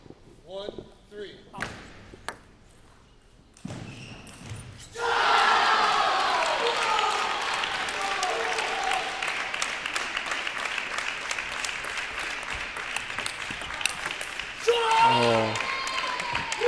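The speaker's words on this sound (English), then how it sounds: "almost as loud as the rest of the entire crowd cheering on the other match" A crowd at a college table tennis team final erupts into sustained loud cheering and applause after a rally, following quieter moments with scattered voices and paddle or ball knocks, then fading slightly.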